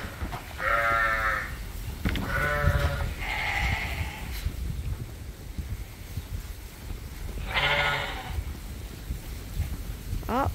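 Ewe lambs bleating on a sheep farm on a dreary day, several loud, close calls in short bursts with quieter gaps and steady breezy background between them.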